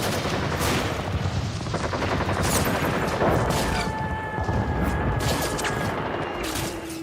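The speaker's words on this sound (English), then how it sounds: "They drop napalm and strafe its decks with rockets, cannon fire, and armor-piercing rounds" Dense gunfire, rockets and cannon fire in an air attack on a naval ship, with rapid bursts of shots and booms layered over a constant loud roar, and whistling tones cutting through.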